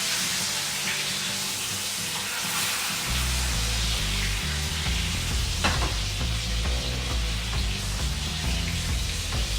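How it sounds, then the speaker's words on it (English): A steak sizzles loudly in a pan, a steady frying hiss over a bed of low crackle, with occasional clicks and scrapes as tongs baste it in a butter mixture; no one speaks. "take the tongs and just go ahead and start to baste this steak with those"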